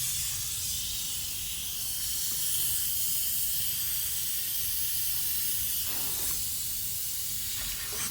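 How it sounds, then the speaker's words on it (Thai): Compressed air hisses steadily into the combustion chamber of a cracked or leaking Mighty cylinder head during a pressure test, a continuous broadband rush with no voice over it. "เราอัดลมเข้าไปในห้องเผาไหม้นะฮะ แทนกำลังอัดเลยจำลองกำลังอัดบนหัวลองเหมือนกใช้งานจริง"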